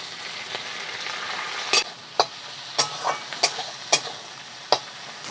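Ginger-garlic paste fries in a pan with onion, tomato and crab masala, giving a steady close sizzle broken by several sharp scraping clacks of a spatula against the pan, with no voices.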